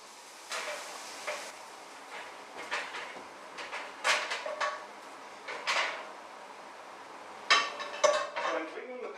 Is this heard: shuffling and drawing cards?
no